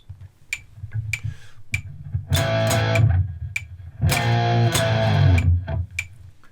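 An electric guitar with distortion plays a verse riff: muted ticking picks give way to two loud, sustained distorted chord bursts with a gap between, close and with no talking.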